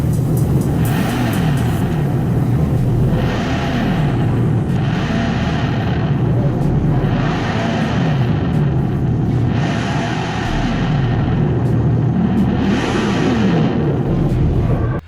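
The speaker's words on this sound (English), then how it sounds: "It now sounds like a grumbly, supercharged Hemi V8." The 2025 Dodge Charger Daytona Scat Pack lets out a loud, grumbling exhaust note that swells and falls in repeated rev-like surges, close and sustained, with no voices.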